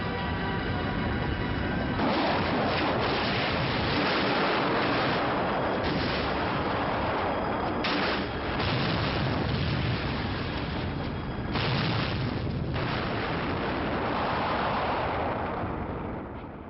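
A huge movie explosion roars loud and continuous, with rolling booms and surges that swell and break over several seconds, heavy and alone without talk.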